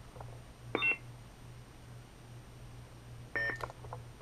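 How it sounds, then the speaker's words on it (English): A 2018 Korbanth MPP lightsaber chassis in ANH configuration gives two short electronic beeps about two and a half seconds apart while its button is held to change sound fonts, quiet and close in a still room. "you push and hold this through two beeps"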